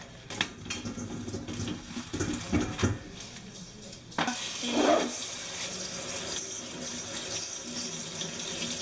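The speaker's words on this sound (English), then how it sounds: "I'm going to wash the potatoes now." Tap water runs over 2 pounds of baby red potatoes at a kitchen sink, a steady broadband wash with clinks of dishes and splashing bursts as the potatoes are handled and rinsed, fairly close.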